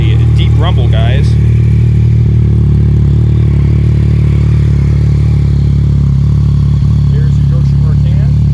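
A 2019 Yamaha XSR 900 with a full Yoshimura exhaust system idles with a deep, steady, close rumble throughout, with a brief mechanical clatter near the start.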